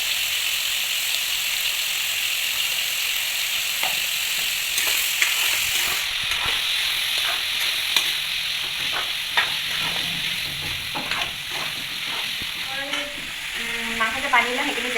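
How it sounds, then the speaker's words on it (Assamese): Broiler chicken with taro, seasoned with salt and turmeric, fries in a pan with a constant loud sizzle, broken by crackling pops and the occasional scrape of stirring. Nobody speaks. "মাংস যে পানী ওলাই সেইখিনি যেতিয়ালৈকে নাযায় তেতিয়ালৈকে মই ভাজি থাকিম"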